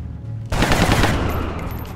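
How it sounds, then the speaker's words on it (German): Burst of automatic gunfire from the turn-based strategy game XCOM: Enemy Within, erupting suddenly after a quiet start and rattling loudly with rapid dense shots that trail off into a lingering roar. "Vielleicht kann ich ja von hier aus auf den schießen."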